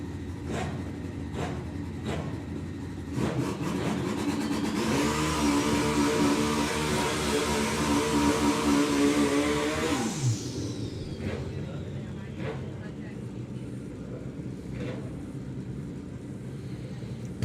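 A comp bike drag racing motorcycle at a drag strip refires its engine and revs, a loud sustained roar rising and holding for several seconds before cutting off, with a commentator talking over it and scattered crowd and track noise around.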